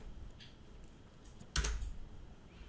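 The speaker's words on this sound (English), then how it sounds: "Type in the distance." A few soft keystrokes on a computer keyboard, then a brief louder cluster of taps as a distance value is typed in, in an otherwise quiet room.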